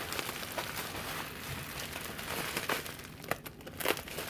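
A Christmas card envelope is opened and handled, giving close, continuous paper crinkling and rustling with a few sharper tearing crackles near the end, with no voices.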